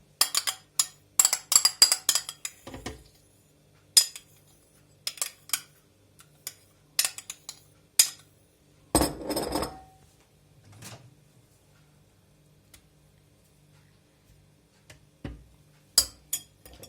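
A spoon clinks and scrapes against a bowl while scooping mayonnaise, in short, irregular bursts, with quiet pauses between the scoops.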